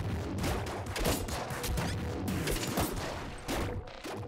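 Dense, rapid bursts of plasmite cannon fire and impacts pile up in Nuclear Throne as dogs are shot down, loud and continuous with choppy crashes throughout.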